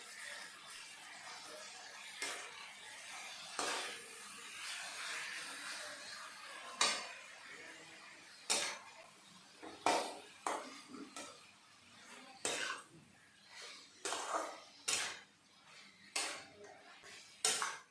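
A spoon stirs pork with turmeric powder, Kashmiri red chili powder and salt in a cooking pot, giving repeated scraping and knocking clatters at an uneven rhythm against a soft continuous sizzle.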